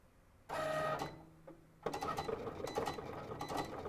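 Cricut cutting machine slicing through vinyl, a steady mechanical whir with a sustained motor tone, then a busier rattling, clattering stretch as the blade carriage moves quickly back and forth, close and fairly loud.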